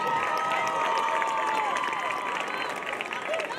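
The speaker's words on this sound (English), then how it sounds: "Let's hear a round of applause for our Somerset Berkley cheerleader seniors" Crowd applause and cheering for high school cheerleader seniors on football senior night, a steady wash of clapping and voices heard from across a stadium.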